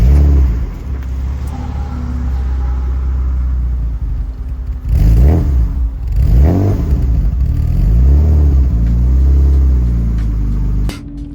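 A BMW E36 Compact engine rumbles at idle, then revs repeatedly with rising and falling pitch as the car pulls away, loud and close.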